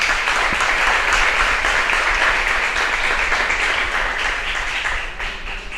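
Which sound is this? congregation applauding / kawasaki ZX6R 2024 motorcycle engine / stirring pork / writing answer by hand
congregation applauding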